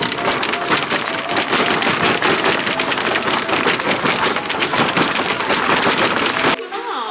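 Morning rain falls outdoors at a resort in Sapa, a dense, continuous hiss and patter on surfaces that stays loud and even before the sound changes abruptly near the end.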